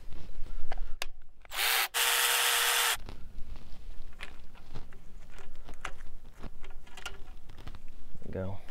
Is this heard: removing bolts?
yes